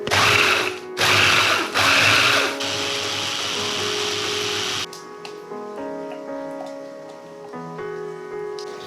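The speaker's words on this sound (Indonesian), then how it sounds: "Kita bisa haluskan pakai chopper aja biar prosesnya lebih cepat." An electric chopper grinds spice paste for Balinese-style grilled chicken, a loud steady whirring buzz in bursts during the first few seconds before the motor noise drops away to a quieter hum with clinking.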